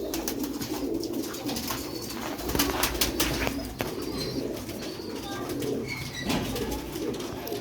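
Pigeons coo continuously in a loft, in a dense overlapping chorus of low throaty calls with occasional wing flaps, heard close up with no talking.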